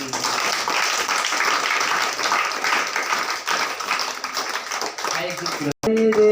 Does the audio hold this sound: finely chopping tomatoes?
no